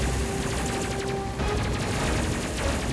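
Sustained rapid shooting in the space combat game Space Crew, a dense unbroken rattle of repeating shots over a steady droning hum, with no talk.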